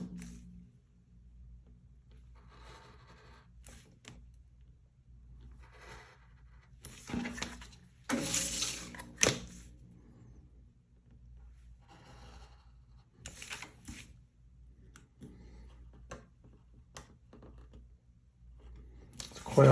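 An X-Acto knife with a number 11 blade slices through folding carton paperboard for a packaging mock-up. Quiet, close scraping and crinkling strokes come in irregular bursts, with a few louder cuts around the middle.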